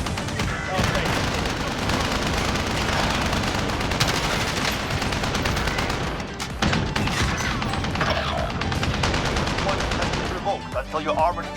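A .50 cal machine gun blazes in Warzone in sustained heavy bursts of rapid fire for roughly ten seconds, loud and dense with crashing impacts, while voices talk over the gunfire.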